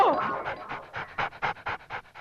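Dog panting close by, a rapid, rhythmic series of breathy huffs, about a dozen short pulses, heard alone and fairly clear.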